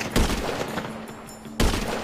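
Bursts of gunfire in Grand Theft Auto V, two loud rapid volleys about a second and a half apart, with a ringing tail between them.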